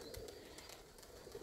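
Pigeons cooing at a dovecote, a low, soft, continuous cooing close by with no other sounds over it.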